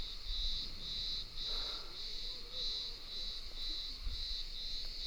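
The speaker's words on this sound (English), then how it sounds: "Hear the cicadas." Cicadas buzz in a steady pulsing chorus outdoors in Greece, the shrill rhythmic drone repeating without pause, with faint background sound beneath it.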